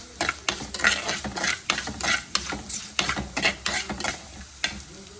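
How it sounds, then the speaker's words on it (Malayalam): Garlic sizzles in hot oil in a pan while a spoon stirs it in repeated close, rhythmic scraping strokes over a steady frying hiss, with no talk, as a Kerala-style chicken curry is cooked. "ഇതൊന്ന് വെളുത്തുള്ളി നന്നായിട്ട് മൂക്കട്ടെ"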